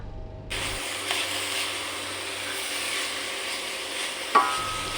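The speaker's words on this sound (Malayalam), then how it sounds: "അരിഞ്ഞു വെച്ചിരിക്കുന്ന ചീര ഇതിലേക്ക് ഇട്ട് നന്നായിട്ട് ഇളക്കി കൊടുക്കുക." Chopped spinach stirring and sizzling in hot oil in a pan for a spinach thoran, a steady close hiss broken by a few scraping clinks of the spoon, with no talk.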